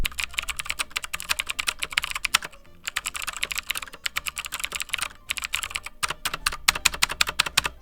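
Rapid typing on a $50 Walmart mechanical keyboard, with dense clacky keystrokes in continuous bursts and short pauses between them, close and clear with no talking.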